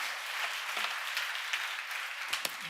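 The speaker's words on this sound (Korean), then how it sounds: "우리 주님께 영광의 박수 올려드리겠습니다." A church congregation gives soft, distant applause in praise during a sermon, a faint steady patter of many hands with a few sharper claps.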